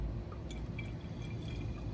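Sugar water poured into a hand-blown glass hummingbird feeder, a faint, steady trickle of liquid over low background hiss lasting two seconds.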